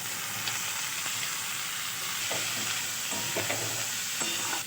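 Chopped chillies and capsicum stir-fried in a hot pan for Chinese-style chili prawn, giving a steady broadband sizzle throughout with intermittent scraping and stirring clicks from a spatula, close and continuous, no talking.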